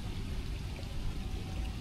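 Steady rain falls through trees beside a flooded creek during a pike and perch fishing outing, a close, even hiss with dense patter and no voices.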